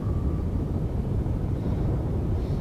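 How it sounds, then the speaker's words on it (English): A helicopter in the Cold Waters submarine game, a steady low rumbling drone heard from below the surface, continuous and fairly loud across the whole moment with no voices. "I can hear the helicopter overhead again."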